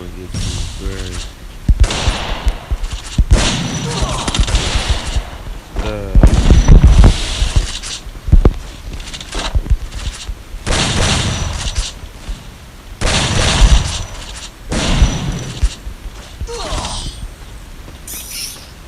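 Gunfire in the mobile shooter Garena Free Fire, repeated loud shots in clusters, mixed under a streamer's continuous talking.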